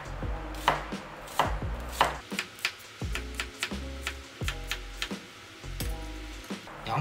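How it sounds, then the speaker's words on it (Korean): A kitchen knife slices a small onion into thin strips on a cutting board, with steady, sharp thuds and crisp cuts close by in an irregular rhythm, and no talking. "작은 양파 한 개 썰어 보겠습니다."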